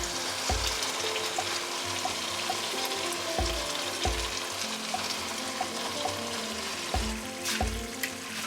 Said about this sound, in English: after adding your peanut, you want to make sure you stir really good